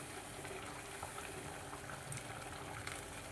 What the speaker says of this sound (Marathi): मी आता डाळ टाकलेली आहे ना, त्याला उकळी यायला चालू झालेली आहे